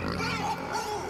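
A pig oinks in the game Inside, a close, short run of nasal grunts lasting about a second.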